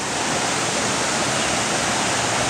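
Niagara Falls roars with a dense, steady rush of falling water that fills the whole moment loudly and evenly, with no voices over it.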